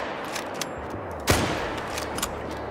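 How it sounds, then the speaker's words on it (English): A single sharp crack of a .303 Lee-Enfield rifle in the hunting game The Hunter: Call of the Wild, loud and close, with a short tail against quiet outdoor ambience. "that was a beautiful right lung shot with the 303 from 91 meters"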